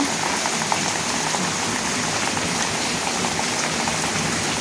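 Steady rain falls on a leaking house, with water pouring down through a pipe, making a dense, constant close hiss and splatter throughout, with no talking.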